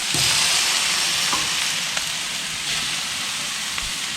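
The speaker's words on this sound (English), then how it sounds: "Listen to the sizzle" Sheepshead fish fillets sizzle on an outdoor grill, a steady loud hiss and crackle with small pops running throughout, and no one talks over it.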